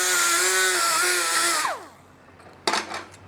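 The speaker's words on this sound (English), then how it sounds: "we just use a crisscross or a coarse rotary burr, and we're just rolling it just to take that surface condition off of here" A coarse rotary burr on a power tool rolls over a radar mast surface, a loud steady whine that winds down in pitch as the tool stops, followed by a couple of short scraping bursts.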